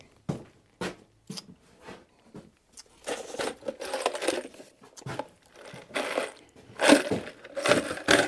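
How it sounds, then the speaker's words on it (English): Screws driven into a 2x4 wood bird feeder post, starting with sharp clicks and taps, then several whirring bursts of a driver biting into the wood, close by. "So now I'll just put a couple screws, 2 here and 2 on the other side."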